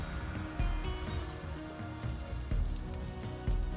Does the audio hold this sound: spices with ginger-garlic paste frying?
yes